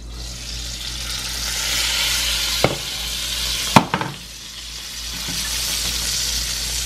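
Eggs for chaffles sizzle steadily in a frying pan up close, a constant hiss broken by a couple of sharp clinks of a utensil against the pan before the frying swells again.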